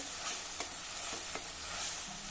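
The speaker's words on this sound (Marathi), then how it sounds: "आता आपल्याला हे वाटण व्यवस्थित परतून घ्यायचं आहे कारण लसूण मिरची आलं सर्व काही आपण कच्चच वापरलं आहे" Ground garlic, chili and ginger paste frying in a pan, sizzling softly and steadily with a few stirring scrapes, heard alone and fairly quiet.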